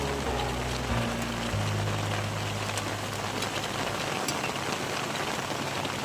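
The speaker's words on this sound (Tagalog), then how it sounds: "Grabe ulan." Rain falling steadily at an outing, a dense, even hiss of drops heard close throughout, with a low engine-like hum fading out early.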